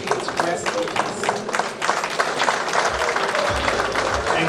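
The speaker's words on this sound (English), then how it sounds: "Please give her another round of applause" Audience at a celebration-of-life memorial applauding, a sustained burst of many hands clapping at moderate volume with some voices mixed in.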